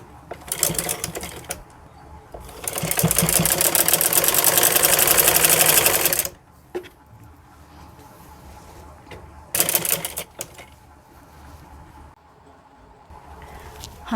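Sewing machine stitching the waistband strip of a wrap trouser (palazzo), with two loud sustained runs of rapid mechanical chatter and a shorter burst later, separated by quieter handling and pauses.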